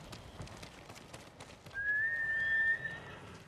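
A horse in Ghost of Tsushima, with faint rhythmic hoof clops under ambient noise, then a clear whistled tone rising and holding for about a second.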